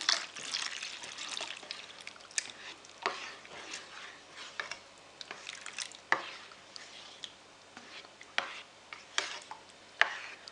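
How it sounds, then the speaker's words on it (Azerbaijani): A spoon stirring pumpkin soup with milk in a pot: soft continuous scraping and liquid swishing, punctuated by irregular clinks and taps against the pot, close but quiet. "Əlimi saxlamadan qarışdırıram."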